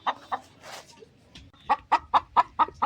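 Hens in a small coop with a plastic laying box cluck in a quick series of sharp, close, rhythmic calls, a few softer ones first, then a steady run of loud clucks.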